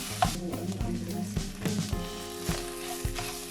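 Quiet sizzling of meat, onion and tomato puree frying in a pan, with a spoon scraping and stirring in an irregular rhythm.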